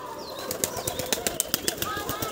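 Pigeons beat their wings in a quick run of sharp flapping bursts, close and fairly loud, over a background hum of outdoor noise.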